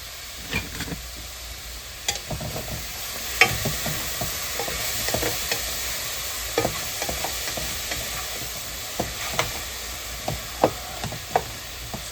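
A pot of chicken and smoked sausage pilau sizzles steadily while a spoon stirs it, scraping the bottom with repeated clicks and scrapes over a continuous hiss, close and alone.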